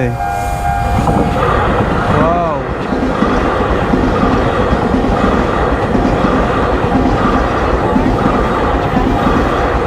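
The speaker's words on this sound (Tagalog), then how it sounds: "Ayan na yung tren. Ang bilis niyan." A train in Taiwan rumbles past close by with a loud, steady roar and rattling wheels, a brief horn sounding early on, with voices faintly underneath.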